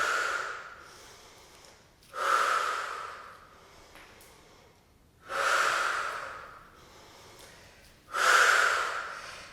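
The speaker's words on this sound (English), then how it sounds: "Breathe in." Slow, deep breaths during a Pilates exercise at home, four long airy inhales and exhales spaced about two seconds apart, close and clear with no talking.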